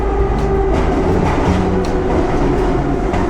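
Prague metro train of the 81-71 type running, a loud steady rumble and rolling roar with faint clicking of wheels over rail joints throughout, heard from on board with no talking.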